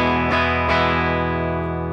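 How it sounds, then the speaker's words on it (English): An electric guitar played through an original Electro-Harmonix Big Muff fuzz pedal, two quick strummed chords ringing into a thick, sustained, heavily distorted tone that decays slowly and loudly on its own. "Here is the original Big Muff."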